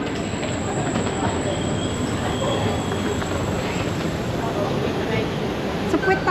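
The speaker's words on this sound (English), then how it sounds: "The train is coming." Train pulling into a station on the Milan Malpensa to Tirano line in Italy, a steady broadband rumble of wheels and rolling stock throughout, with people talking over it.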